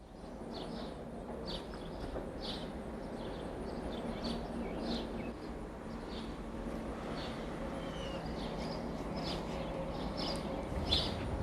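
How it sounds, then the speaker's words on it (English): Birds call in the trees over a flooded residential neighborhood during the 1993 flood, short faint chirps repeating at a distance over a steady low background hum, with no talking. "You hear the birds up in the trees."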